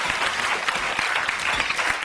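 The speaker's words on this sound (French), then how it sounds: "je crois que ça mérite bien quelques applaudissements tout de même" Steady applause from a television studio audience, dense clapping at a fairly loud level throughout, with no talk over it.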